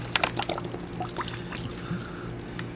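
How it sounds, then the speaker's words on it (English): Water pours steadily from a bottle into a pan holding a ham in brine for buckboard bacon or carriage ham, a close, continuous splashing trickle for a few seconds. "I started adding 1 bottle of water. So this is bottle of water number 2."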